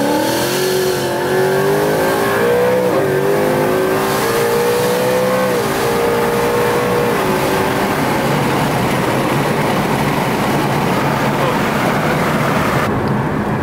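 A Ford Mustang pulls hard from second gear, its engine roaring loudly and climbing steadily in pitch through one long continuous acceleration, recorded close from inside the car.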